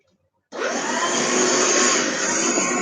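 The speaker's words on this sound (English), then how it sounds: "The vacuum" A household vacuum cleaner starts up abruptly after half a second of near silence, then runs at a loud, steady whine with no change in pitch to the end.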